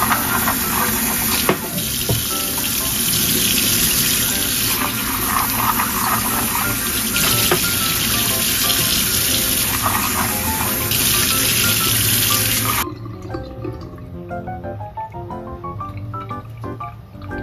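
Walnuts are rinsed under a running kitchen tap: a steady, loud rush of water splashes for most of the stretch, then cuts to a much quieter trickle and faint clinks near the end.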